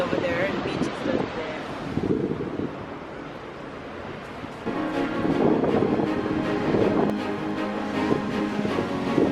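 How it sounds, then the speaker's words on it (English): Ocean surf rolling onto a beach with wind buffeting the microphone, a steady broadband wash that swells louder in the second half, with people talking nearby. "As you guys can see over there, the beach is just there."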